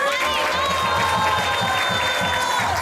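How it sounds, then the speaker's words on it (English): Applause and cheering from a crowd at an ISKCON temple festival in Atlanta, a dense, steady wash of clapping and voices with sustained sung or musical tones running over it. "So let's give him another round of applause."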